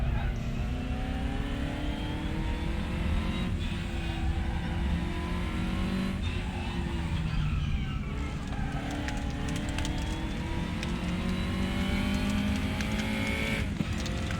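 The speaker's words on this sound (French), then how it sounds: "Et on fait rugir le moteur puisque la Formule Junior se prénomme plutôt Formule Ford." A Formula Ford race car in the RaceRoom video game at Monza roars steadily, its engine pitch climbing and dipping through gear changes across the whole stretch, loud and continuous with no voices over it.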